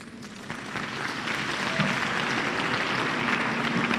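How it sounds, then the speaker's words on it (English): Sustained audience applause at the closing ceremony of the All Africa University Games, a dense, even roar of clapping that builds slightly and holds steady, heard alone. "a round of applause once again to our chief guest"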